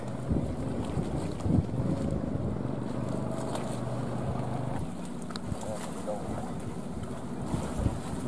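An engine drone rumbles steadily as a 24-metre Ben Tre trawler comes in to dock alongside another trawler, with wind buffeting the microphone and a few brief knocks.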